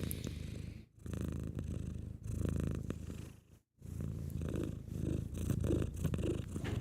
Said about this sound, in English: Like this is the normal purr, which is this,